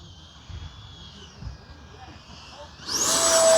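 An FMS Rafale 80mm electric ducted-fan RC jet on landing approach, its faint whine distant at first and then swelling into a loud, rushing high-pitched roar as it passes close.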